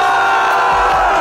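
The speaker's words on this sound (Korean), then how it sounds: "전방에 함성 발사!" Group of young men in a school hallway lets out a loud collective cheering shout, a brief roaring burst of many voices close by that swells and holds.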